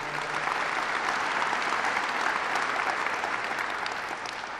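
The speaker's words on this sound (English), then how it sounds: "So let's give them a round of applause." An audience at a state governor's announcement event gives a steady, dense round of applause, an even wash of clapping throughout that tapers slightly at the end.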